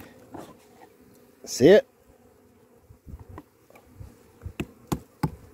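Bees buzz close by around a syrup feeder in a brief loud burst, with a short spoken question and scattered knocks and taps around it.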